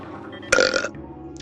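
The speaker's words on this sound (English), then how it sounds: "I need to start burping" A single loud belch, about a third of a second long, bursts out of a quiet room with faint background music playing underneath.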